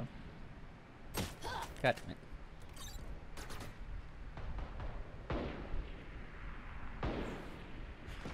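Gunfire in a video game: several sharp bursts of shots and booms spaced across the stretch, loud and close against a low rumbling background, with no speech over them.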